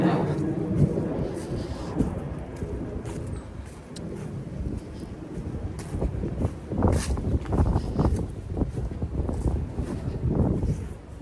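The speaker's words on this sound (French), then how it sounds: "Ah, le vent se lève." Gusting wind rushes and buffets the microphone in uneven surges, rising louder toward the end, with occasional bumps and rustles.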